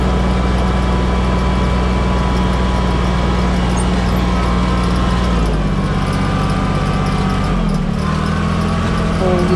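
A Kubota B-2400 tractor fitted with a rear blade runs loud and close as it drives up a driveway, a steady low engine drone with shifting pitch and no pause.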